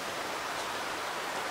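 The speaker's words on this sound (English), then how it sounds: "there's water flowing underneath the ground. I think you can hear that." Water running beneath the ground along a hemlock forest trail, a steady broadband rush like a hidden stream, even and unbroken with no talk over it.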